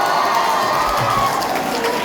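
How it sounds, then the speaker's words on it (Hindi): A seminar audience in a hall in Butwal, Nepal gives loud, dense, continuous applause and crowd noise, steady throughout with no talk on top. "एक बार जोरदार तालियां बजाएंगे आप लोग प्लीज।"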